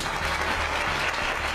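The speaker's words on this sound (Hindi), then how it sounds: "प्रेयर के बाद पूरा चर्च तालियों से गूंज उठता है।" Congregation applause fills a church after a prayer, a dense, continuous wash of many hands clapping at an even level.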